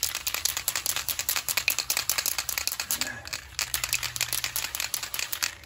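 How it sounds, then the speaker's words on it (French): A spray paint can being shaken hard for car bodywork touch-up, its mixing ball rattling in a fast, steady rhythm of sharp clicks close to the microphone, with one brief pause midway. "Pour peindre, déjà, faut bien secouer la bombe."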